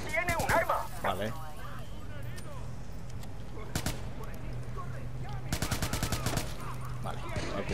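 Gunfire in Watch Dogs: bursts of rapid automatic shots and single sharp cracks repeat through the scene, loud and close, mixed with shouting voices and background clatter.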